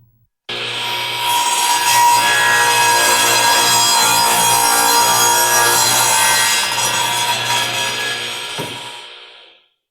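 A Sears Craftsman radial arm saw makes a miter cut in wood, a loud sustained whining rasp of blade through timber lasting about nine seconds and then spinning down to silence, close and alone.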